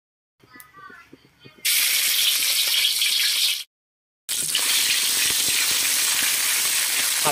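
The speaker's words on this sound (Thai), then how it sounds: "ผัดเครื่องให้หอมครับ" Spice paste is stir-fried in oil in a pan: after a brief voice, a loud, close hiss erupts, stops for a moment, then resumes just as strongly until the end.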